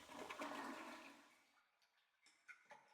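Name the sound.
toilet flushing in the video game Silent Hill: Origins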